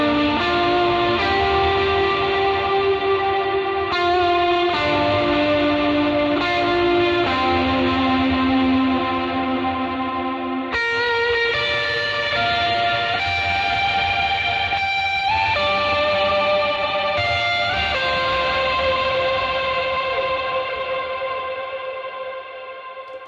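An electric guitar runs through an overdrive pedal drenched in heavy reverb, sustained chords ringing out and changing every few seconds, thick and washy, the tail decaying slowly at the end with no talking.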